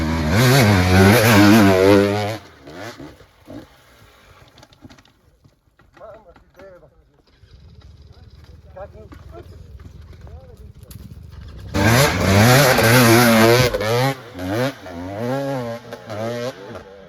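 A dirt motorcycle on a rough trail revs hard in two loud, close bursts with rising and falling pitch, separated by a quieter idling stretch in between.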